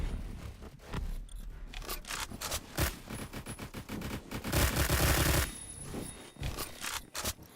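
Bursts of full-auto fire from a VSS rifle in the online shooter Phantom Forces, close-range hip-firing; rapid rattling volleys come in short clusters, ending in one longer sustained burst, with no talk over them.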